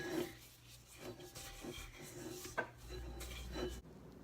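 A spatula scrapes down the side of a mixing bowl of sugar cookie dough, a few close, quiet rubbing strokes with soft knocks, and no talking.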